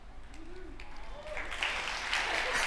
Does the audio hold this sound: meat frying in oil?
no